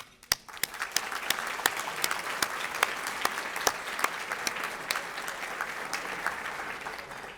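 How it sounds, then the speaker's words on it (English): Audience applause at an awards dinner honoring sponsors, steady dense clapping from a sizable crowd with a few sharp, close claps standing out, sustained evenly throughout. "Please join me in giving them a heartfelt applause"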